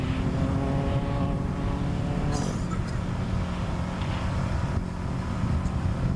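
Off-road race cars and trucks at the NORRA 500 roar past in a broad engine rumble, one vehicle's note swelling and then fading, with sharper mechanical bursts layered on top.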